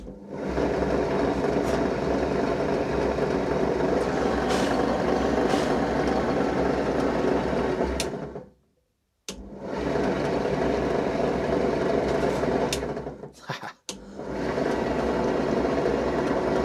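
The engine of the restored sailing yacht SY Carla runs with a steady, rumbling idle, then cuts out briefly, restarts, stutters again and keeps running, fairly close and without talk.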